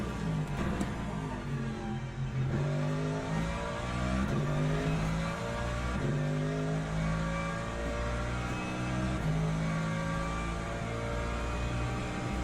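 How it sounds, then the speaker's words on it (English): A race car engine in the Le Mans Ultimate sim racing game revs steadily and loudly throughout, a continuous droning mechanical tone with shifting pitch and no talk over it. "I like the sound of this car more than the BMW."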